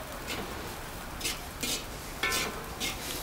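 Crushed chicharon being stirred into palabok sauce, giving a few soft scraping, clattering strokes of a spoon against a pot over a low background hum, with no one talking.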